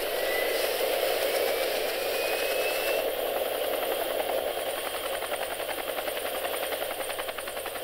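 Helicopter in the video game Arma 2, heard as a continuous close rotor chop and engine whine with a rapid rattling pulse, loud and steady throughout, with no talk.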